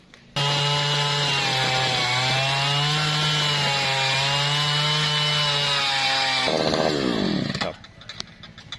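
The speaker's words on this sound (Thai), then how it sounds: "ก็จะทำการเจาะนะครับด้วยเครื่องเจาะมือถือนะครับ" A handheld petrol earth auger bores fence post holes in soil, its engine droning loudly and steadily for several seconds before bogging down, revving and cutting off, leaving quiet outdoor ambience.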